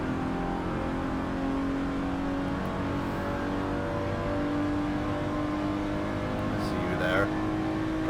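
Race car engines in the Forza 7 video game, with a Ferrari pushing to pass: a steady, loud engine drone with shifting pitch runs throughout, and a voice talks over it.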